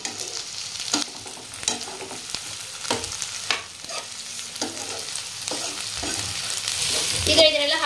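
Capsicum, carrot and onion stir-fried in a pan for pasta, a steady sizzle with repeated scraping stirs of the spatula every second or so, close and fairly loud, no talking.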